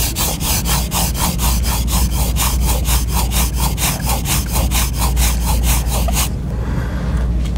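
A steel card scraper rubbed back and forth on a 220 grit sharpening stone with slurry, a steady run of rhythmic gritty strokes, close and loud, that stops abruptly near the end.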